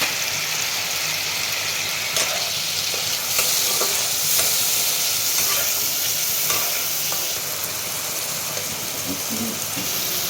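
Spices for chhanar dalna (ginger paste, dry chilli and cumin powder) sizzle steadily in a pan, with a spoon scraping and stirring through the constant hiss, close and fairly loud.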